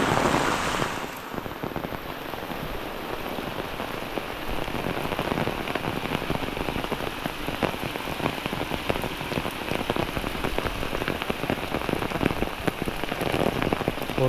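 Torrential Konkan monsoon rain drums hard on surfaces nearby, a thick unbroken roar of drops lasting throughout, with no one speaking.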